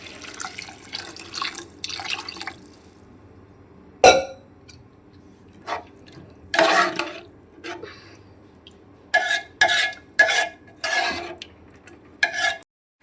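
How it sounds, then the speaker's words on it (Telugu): Water runs and splashes into moong dal frying in a pan, coming as several separate bursts of pouring with quiet gaps and a brief sharp clatter between them. No one speaks. "దీంట్లో వాటర్ పోసుకోవాలి."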